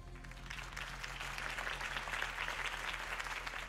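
Video game crowd applause, a dense, even clatter of clapping over a low constant hum, sustained for several seconds.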